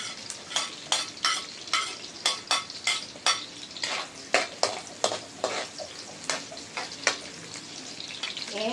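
Onion sizzles and fries in a pan with garlic while being stirred, giving a steady run of rhythmic scraping strokes over continuous crackling, close up and with no talk.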